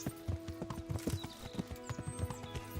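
Horse hooves clip-clop at a steady walking rhythm in the medieval video game Kingdom Come: Deliverance, close and moderately loud, with a brief whinny-like tone and ambient game sounds behind.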